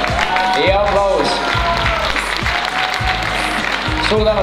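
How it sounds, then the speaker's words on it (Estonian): Applause rings out for the winner at a women's bikini fitness competition awards ceremony on stage, steady clapping throughout with music playing and a host's voice over it. "Ja aplaus."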